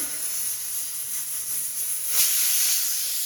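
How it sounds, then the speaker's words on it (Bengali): A kitchen pressure cooker boiling potatoes lets off a steady, loud steam whistle and hiss that swells briefly past the midpoint, with no voices. "আমার কিচেনে সিটি মারছে কুকার"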